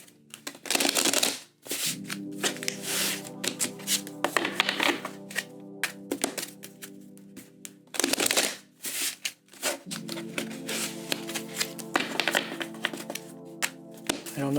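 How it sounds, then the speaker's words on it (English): Tarot cards are shuffled in several quick riffling bursts, close by, separated by brief pauses and soft handling taps over a low background hum. "I'm going to do 3 shuffles"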